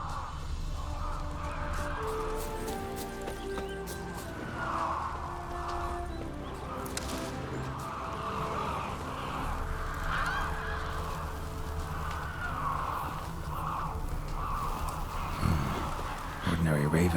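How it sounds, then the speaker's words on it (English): Ordinary ravens in The Witcher 3: Wild Hunt give repeated harsh, honking caws, faint and scattered over a quiet ambient game soundscape with low background tones. "Ordinary ravens, looks like."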